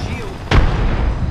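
A frag grenade in a video game detonates with a single sharp boom about halfway through, the blast's low rumble lingering afterward.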